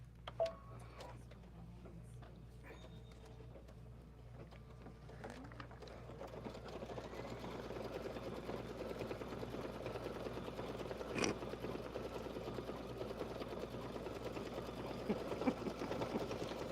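An embroidery machine stitches decorative candlewicking on a tea towel, a quiet, steady rapid mechanical ticking and whirring that starts sparse and settles into continuous running, with a low hum underneath.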